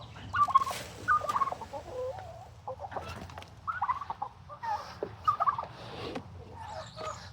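Backyard turkeys raised for Thanksgiving gobble and cluck in a lively, uneven series of calls, several bursts overlapping at close to moderate distance over a low steady background.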